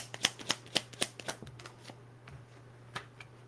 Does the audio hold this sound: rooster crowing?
no